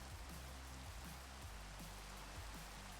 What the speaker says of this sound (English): It's raining and snowing.